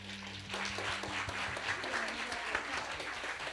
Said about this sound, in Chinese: 我们给这些班导师掌声一下。